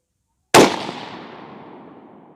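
A suppressed Remington 700 rifle fires a single .223 test load outdoors at a long-range setting, a loud sharp report followed by a decaying rumbling echo that fades over about two seconds, with no talk.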